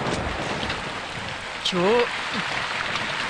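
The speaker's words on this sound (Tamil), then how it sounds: "இந்த நேரம் பார்த்து மழை வேற பெருசா பெய்யுது." Heavy rain pours steadily as a broad, close hiss filling the whole stretch, with a short vocal sound rising briefly above it partway through.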